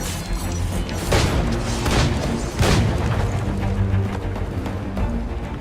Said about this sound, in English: Here, you can see Edward utilizing his dual cutlasses and guns, combining them in counters and combo attacks.